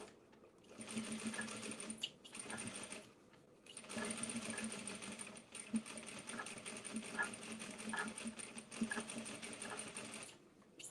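A sewing machine stitches a bag strap in several close bursts, running steadily for a second or two, pausing, then starting again, with a longer run through the middle.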